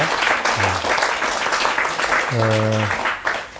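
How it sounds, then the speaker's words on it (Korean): Congregation applause at a Korean church service, broad steady clapping from many hands with a sung or spoken tone rising briefly over it. "큰 박수 한번 주시기 바랍니다"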